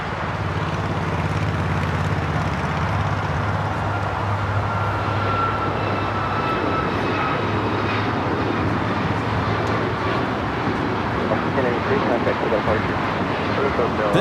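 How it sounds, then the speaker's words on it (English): Alaska Airlines Boeing 737 MAX 9 departing LAX for Seattle, a continuous rumbling engine roar with low drone tones that fades slightly over time, heard at a distance with airport ambience. "This is Alaska Airlines 1083 taking off to Seattle on the MAX 9."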